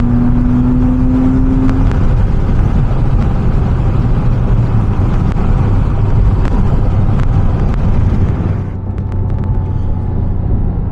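A 2006 Porsche Cayman S with a six-speed manual pulls hard under steady acceleration, its engine drone loud and continuous, with a rising tone early on before the revs ease off near the end.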